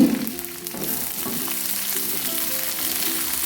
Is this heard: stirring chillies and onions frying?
yes